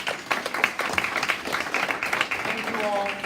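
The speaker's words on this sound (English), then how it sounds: "Can we get a round of applause for Mr." An audience claps for Mr. Smith at a school parent information evening, with dense, steady applause throughout and some talking underneath.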